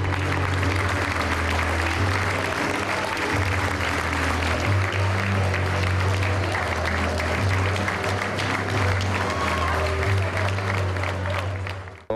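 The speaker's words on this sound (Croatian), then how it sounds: "publiku, koja je svoje zadovoljstvo potvrdila gromoglasnim aplauzom" A theatre audience at the premiere of the play Hasan Kaimija breaks into thunderous applause, a dense, steady wash of clapping that holds for the whole stretch and fades only at the very end, with no talk.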